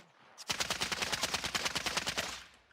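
A long burst of rapid automatic gunfire from an enemy in Call of Duty Warzone, loud and close with sharp evenly spaced shots for about two seconds, then tapering off.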